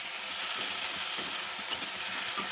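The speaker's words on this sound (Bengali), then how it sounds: "তো একটু ভাজা ভাজা করে নিয়েছি" Flat beans (shim) frying in a pan, a dense, even sizzling hiss heard up close without pause, with faint irregular scraping underneath and no talking.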